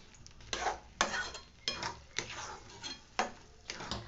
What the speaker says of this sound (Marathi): असा सारखा मधून मधून हलवत राहायचा, आणि असं सारखं मधून मधून हलवत राहायचं, म्हणजे आपल्या कढईच्या बुडाला हात चिपकत नाही.